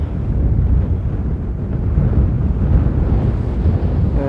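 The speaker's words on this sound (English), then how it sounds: "Today is quite windy. That's why I can't use the natural sound, because it will be just wind sound." Strong wind roars steadily on an Icelandic volcano near a lava flow, buffeting the microphone with a constant low rumble and no break.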